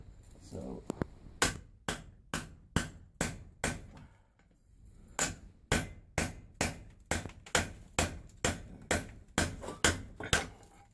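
A chisel is tapped repeatedly to cut a small trench during a steam boiler install. Crisp, close knocks come in quick rhythmic runs, with a brief pause partway through.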